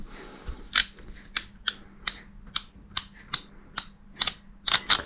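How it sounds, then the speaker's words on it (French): A fine-tooth ratchet wrench in a workshop, giving a series of about a dozen crisp, close metallic clicks in an irregular rhythm, each one sharp and short, with no talking. "c'est vraiment du cliquet fort rapproché"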